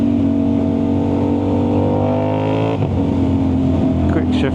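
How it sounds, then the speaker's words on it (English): Loud Aprilia RS660 motorcycle engine accelerating on a test ride, a dense steady roar whose pitch climbs smoothly, then dips at a quick gear shift and keeps pulling, heard close up without talk. "It's so embarrassing riding a bike this loud."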